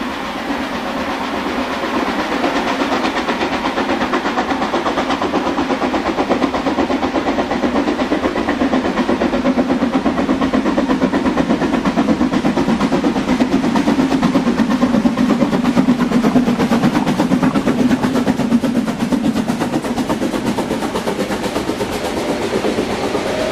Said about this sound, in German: Hoch oben über dem Talgrund arbeiten sich die Züge dann geräuschvoll die lange Steigung nach